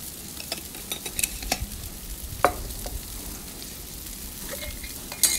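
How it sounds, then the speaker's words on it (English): Almonds and red chili flakes toast in a hot pan with a steady sizzle, broken by scattered scrapes and taps as they are stirred. "And then I want to get these almonds and red chili flakes really nice and toasted up."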